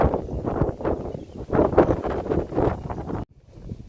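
Strong wind after Typhoon Leon buffets the microphone in a steady, heavy rumble with gusting surges, then cuts off abruptly near the end.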